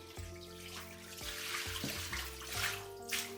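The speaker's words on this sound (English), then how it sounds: "Now after you rinse it several times," Running tap water splashes over cut cauliflower pieces being rinsed in a kitchen for a cauliflower and tofu curry, a faint, steady hiss with shifting splashes, low hum beneath and brighter bursts near the end.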